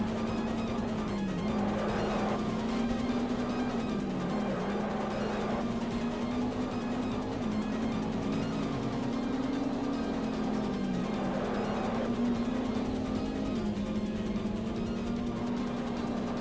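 Steady droning car engine from the Nintendo 64 racing game Top Gear Rally, holding a wavering pitch with slight revs up and down throughout, with no talking.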